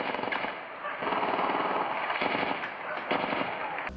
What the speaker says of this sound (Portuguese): Os moradores da comunidade da Fazendinha, no Complexo do Alemão, também acordaram com tiros.